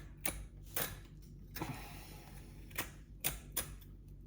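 A Spyderco Lil Native knife carves very dry beech wood with a handful of short, crisp scraping strokes. The strokes are spaced irregularly, quiet and close.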